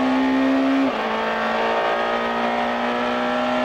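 A Peugeot saloon race car at Brands Hatch during a 1999 National Saloon Cup round holds a loud, high engine note under power, then shifts down to a new sustained pitch and carries on, close and dominant.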